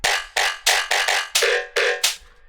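Jump-up drum and bass bass in FL Studio with Serum effects and a filter applied, heard as seven bright, heavily processed stabs in quick rhythmic succession, loud and alone.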